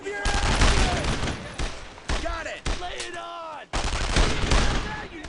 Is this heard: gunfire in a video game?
yes